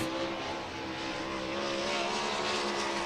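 Winged sprint car number 27, a KPM, on a qualifying lap at Huset's Speedway dirt track, its engine a loud continuous high-revving roar with steady harmonics and no talk.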